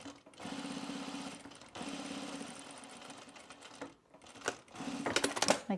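A sewing machine stitches a jacket in steady whirring runs, two sustained bursts with a short break, then stopping and followed by faint handling clicks and rustles; quiet and close.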